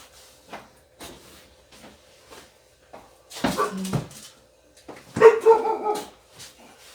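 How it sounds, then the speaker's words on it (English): A puppy barks and yips indoors in a home kitchen, with scattered faint sounds first and then two louder, close bursts of barking and whimpering. "Oh, excuse my dog barking."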